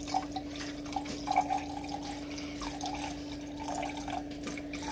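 Water being poured while making lassi, a steady dripping trickle under a constant background hum, moderately faint with no talking.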